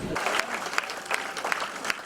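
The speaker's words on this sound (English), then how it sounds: "The crowd of some 700 people cheered as they heard Sanders talk about his platform and his plan" A crowd of about 700 people at a Bernie Sanders political rally applauds and cheers, with dense, continuous clapping and scattered sharper claps. The sound is close and sustained.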